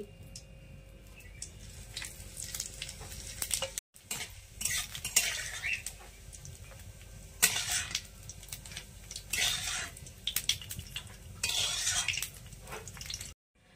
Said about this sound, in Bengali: লঙ্কাটা ভাজা হয়ে গেছে, এবারে আমি জিরাটা দিয়ে দিচ্ছি।